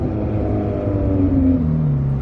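A straight-piped Ferrari 430 Scuderia engine revs in a loud, sustained growl that climbs in pitch near the end, close and alone without talk.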